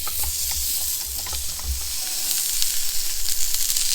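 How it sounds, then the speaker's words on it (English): A blowtorch roars steadily with a broad hiss while heating a frozen engine tool on a stove, close and continuous with faint crackling and a low rumble underneath. "I'm going to get the blowtorch and blowtorch it while it's on the stove as well"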